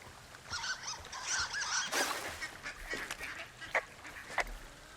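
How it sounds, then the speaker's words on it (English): Ducks quack in the game Firewatch, a cluster of nasal honking calls over a faint outdoor bed, followed by a few sharp isolated knocks or steps. "Why do I hear ducks, but there are no ducks?"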